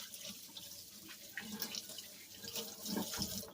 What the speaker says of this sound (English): All right, so I'm going to get this all lathered up. Make sure you wash your hands.